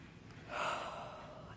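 A single deep inhaled breath, close and soft, rising in a brief airy rush before fading.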